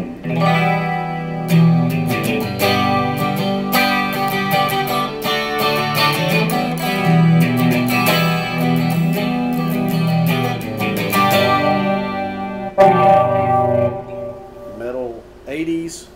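Electric guitar through a Marshall CODE 50 amp on its 80s metal preset, distorted and chorused with reverb, plays loud continuous chugging riffs and lead notes up close, with no talking.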